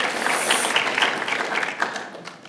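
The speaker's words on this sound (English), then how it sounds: "Y'all need to give him a round of applause." Steady audience applause fills a hall, dense clapping that thins slightly toward the end.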